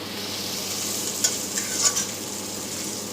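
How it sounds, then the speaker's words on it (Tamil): Onions fry in oil in a pan as the base for a fish gravy, with a soft, constant sizzle and a few light stirring scrapes near the middle, and no voices. "இந்த வெங்காயமெல்லாம் நல்லா ஆயிலில் நல்லா ஃப்ரை ஆனதும்"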